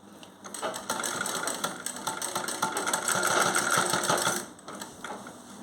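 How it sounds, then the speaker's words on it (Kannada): A tailor's sewing machine stitches the back pocket of men's trousers in a rapid, steady mechanical whir with a chattering needle rhythm, heard up close and loud for several seconds before slowing and stopping. "ಸ್ಟ್ರೇಟ್ ಲೈನ್ಗೆ ನಾವು ಸ್ಟಿಚ್ಚಿಂಗನ್ನು ಬಿಡಬೇಕಾಗತ್ತೆ"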